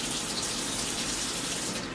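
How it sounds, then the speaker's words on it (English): Water running into a cooking pot for chicken wings with rice and potatoes, a steady close hissing gush with no voices. "we're gonna open it up and we're gonna start putting the water"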